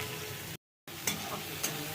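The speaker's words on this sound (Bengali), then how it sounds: "পেঁয়াজটা ভেজে নেবো হালকা লাল করে" Chopped onion fries in hot oil in a wok, a close, steady sizzle broken by a brief total silence, then resuming with a couple of sharper crackling pops.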